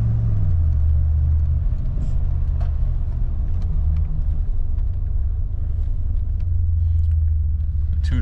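A car with an automatic transmission drives steadily, its engine a loud, continuous low rumble that dips and rises slightly as gears change, with no talking over it.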